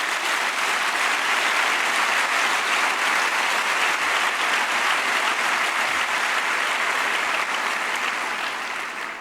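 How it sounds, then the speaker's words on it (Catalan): A large audience applauds at the closing session of an education congress, sustained dense clapping holding at an even loud level for the whole stretch and easing slightly at the very end. "De fet, l'aplaudiment havia de ser per vosaltres"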